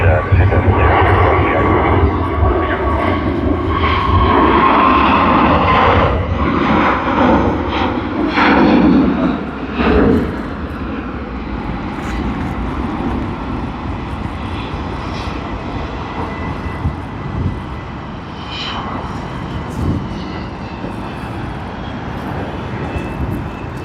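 Qatar Airways flight QR 909 jet departing Sydney Airport, a broad roaring engine rumble that is loudest early and slowly fades into a distant drone while people talk over it.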